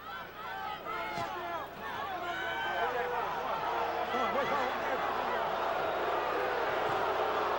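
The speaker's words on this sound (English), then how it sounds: "Crowd booing Cortez's actions" A boxing arena crowd boos the referee in a heavyweight bout between Riddick Bowe and Evander Holyfield, a loud, sustained roar of voices under a ringside commentator's talk.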